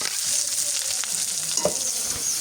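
Onions and chillies sauteing in a pan for curry, a steady close hiss of frying with occasional scraping stirs and a clack of a utensil, no talking.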